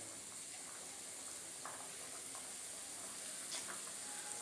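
Meat sautéing in a pan for an Eid al-Adha meat dish, a continuous soft hiss and sizzle with occasional faint clicks and scrapes, no talking.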